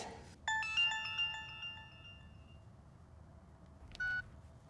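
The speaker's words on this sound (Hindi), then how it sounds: "शिरीन, आंटी फोन नहीं लग रहा है, नहीं उठा रहा है वो फोन" Electronic phone tones chime in a short melodic burst, fade, then one more beep sounds after a pause, quiet and clear.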